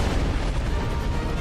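Dense, continuous rumbling blast noise from a video game explosion, loud and sustained through the whole moment with no clear break or voices.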